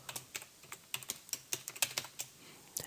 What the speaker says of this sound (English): click and begin to type